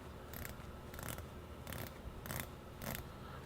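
Rotating unidirectional 120-click bezel on a Seiko Prospex SPB257 dive watch, heard as five crisp bursts of rapid ratcheting clicks, evenly spaced and close up, with no talking.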